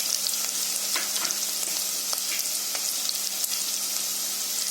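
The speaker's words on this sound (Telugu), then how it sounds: "ఇది కొంచెం పచ్చివాసన పోయేంత వరకు ఫ్రై చేసుకుందాం" Spices fry in oil in a pan for coconut milk pulao, giving a steady close sizzle with scattered crackles and stirring scrapes, alone with no talk.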